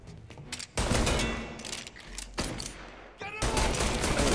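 Bursts of gunfire from the game Mafia Definitive Edition, several loud clustered volleys separated by short pauses, sharp and close.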